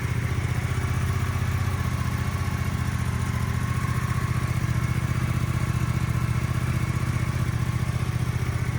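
A 2024 Suzuki GSX-8S fitted with a Delkevic full exhaust system idles steadily close by, a low, even, throbbing burble with no revving and no other sounds.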